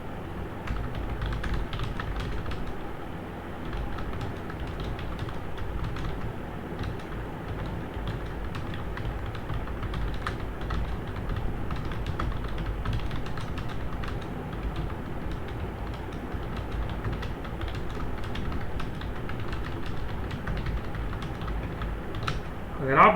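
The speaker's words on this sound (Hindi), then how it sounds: "तो क्या आप इस तरह टाइप करना चाहते हैं?" Continuous rapid typing on a computer keyboard, dense clicking keystrokes running steadily throughout at an even, close level.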